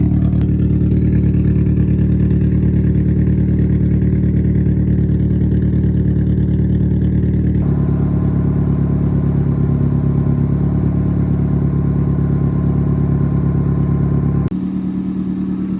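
Car engine and exhaust run continuously, loud and close, with a steady droning tone that shifts pitch twice as the revs change.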